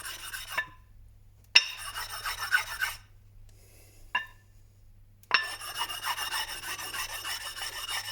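Sharp corners are rubbed off a sharpening waterstone in several separate bouts of close, gritty rasping strokes, some brief and some sustained for seconds, with quiet pauses between them.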